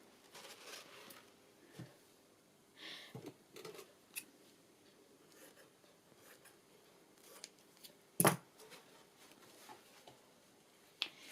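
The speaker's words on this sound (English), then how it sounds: "let me show you, I'll just cut a piece off." Scissors snipping through a piece of tulle at a craft table, scattered soft clicks and rustles, then one sharp close cut, with no talking.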